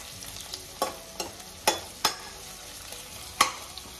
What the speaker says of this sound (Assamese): অনিয়নটো ভালকৈ ভাজি লওক